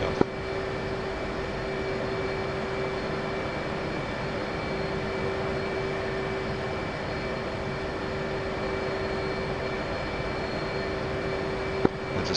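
Jet engine roaring steadily on full afterburner during takeoff in DCS World, a constant loud, broadband rumble with a steady tone running through it, with a brief click near the end.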